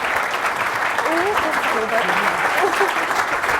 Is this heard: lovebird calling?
no